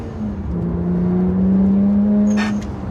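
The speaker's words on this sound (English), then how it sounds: "And that motorcycle again." A motorcycle passes close by, its engine whine rising and then fading over a few seconds beside a BMW 1M.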